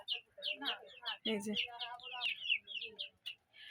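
Four hens newly brought home to raise cluck and chirp in a rapid, close run of short calls, with a brief human voice breaking in partway through.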